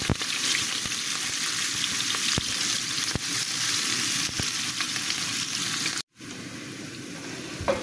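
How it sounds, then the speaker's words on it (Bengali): Chopped onion fries in hot oil in a pan for a Bengali duck curry with jackfruit seeds, giving a loud, dense, continuous sizzle up close with faint stirring ticks and a brief cut-out near the end. "আমি এখন এই যে পেঁয়াজ কুচিটা দিয়ে দিলাম। আমি এটা একটু লাল লাল করে ভেজে নিব"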